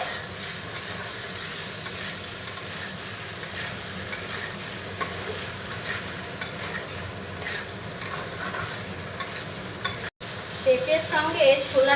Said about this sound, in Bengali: মিশিয়ে নিচ্ছি ভালো করে